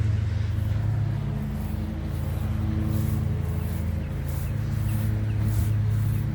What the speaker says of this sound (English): It sounds like they're working on cutting the grass somewhere.